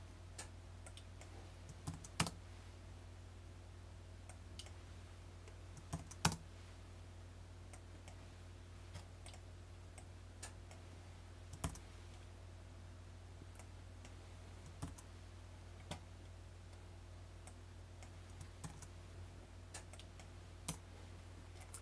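Faint, sparse computer keyboard keystrokes, typed one at a time as bullet points are entered in a journal app, come as isolated clicks over a low steady hum in a quiet room.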